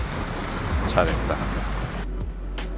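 Ocean waves break at a Gangneung beach at night beside a roadside eatery, giving a constant close wash of surf mixed with wind, while a voice briefly speaks over it.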